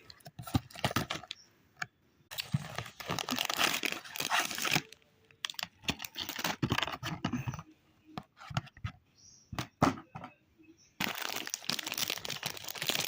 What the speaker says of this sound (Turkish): Böyle paketi var. Hemen açıyorum.